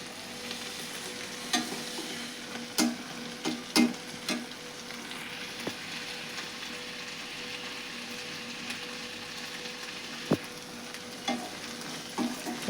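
Cowpea curry (chavalikai palya) with masala and chili fries in a pan, making a continuous sizzle with intermittent clicks and scrapes of a spatula as it is stirred. No voices.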